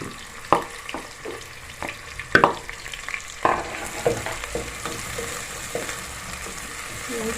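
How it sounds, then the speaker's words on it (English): Onions frying in a pan, a steady close sizzle with scattered clinks and stirring knocks, the sizzle swelling and continuing throughout. "So we add in our onions."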